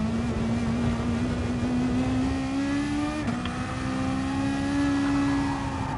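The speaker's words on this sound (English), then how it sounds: "It's got the weirdest turbo noise on this car" Race car engine with an unusual turbo whine in a racing video game, a loud steady drone with rising pitch and a brief dip near the middle, no voices.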